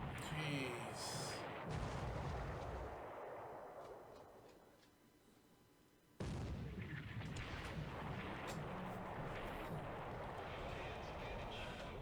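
Big-gun artillery fires in a WWII strategy video game set around Luzon, a loud sustained booming roar that fades out and then bursts back in abruptly, with talking mixed in.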